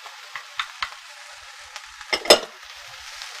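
Green peppers added to a hot pan for vegan burrito filling, with a burst of frying sizzle and a few stirring clinks and scrapes, close by and fairly quiet with no talk.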